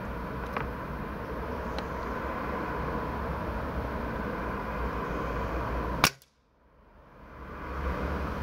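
A rifle shot fired while checking its zero rings out as one sharp, loud crack over a steady outdoor background hiss, followed by a brief hush as the noise drops away and slowly returns.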